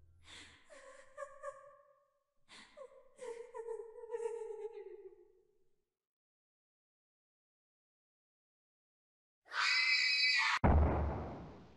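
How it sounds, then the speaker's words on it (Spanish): A video game character's scream in Prom Dreams, a loud harsh burst near the end after breathy gasping and whimpering vocal sounds, then cut off abruptly into noise. "¡Wow, ese grito!"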